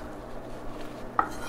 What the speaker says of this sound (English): I'm going to the beet greens here and chopping up